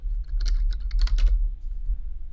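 Brief burst of quick keystrokes on a computer keyboard while entering sign text in Minecraft, close and clear over a low steady hum, then trailing off.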